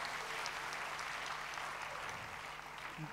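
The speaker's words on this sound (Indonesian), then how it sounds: "Beri tepuk tangan buat Tuhan" Church congregation applauding during a sermon, a steady wash of many hands clapping that fills the room evenly from start to finish at a moderate level, with no voices breaking through.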